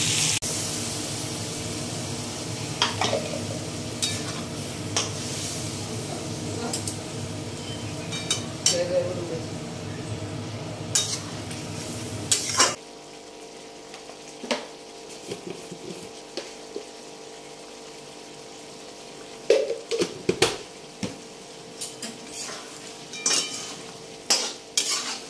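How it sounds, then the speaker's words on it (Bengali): Potatoes seasoned with salt and turmeric fry in a pan as a ground spice paste is stirred in, giving a steady sizzle with scraping and clinking of a spoon against metal, fairly close, with a few brief voice sounds. "এই মশলাটা দিয়ে এবার কষাবো।"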